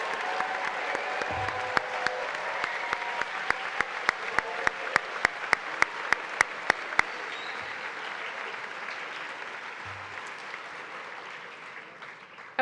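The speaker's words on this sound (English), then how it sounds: "One more round of applause for our graduating 8th grade class." An audience at the Middlesex Middle School 2023 graduation applauds the graduating 8th grade class, a steady, fairly distant patter of many hands with a few sharp clicks, tapering off toward the end.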